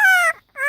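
A voice imitating a cat, two short, bright, tonal cries with a brief gap between them, close and loud.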